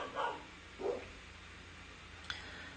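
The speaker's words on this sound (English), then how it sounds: "those dogs" Dogs barking, two separate barks in the first second, somewhat distant and moderate in level, then quiet apart from one short sharp knock near the end; no one speaks.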